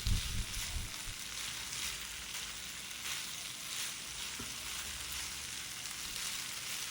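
Onion rice sizzles steadily in a hot pan on high flame, with occasional scraping strokes of a spoon stirring through it, fairly quiet and continuous.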